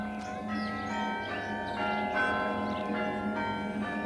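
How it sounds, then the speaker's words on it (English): Church bells ringing for Easter across Norfolk villages, a steady, full peal of overlapping rich tones sustained throughout, with no voices. "The faith of centuries is in the sound of Easter bells that ring all Norfolk"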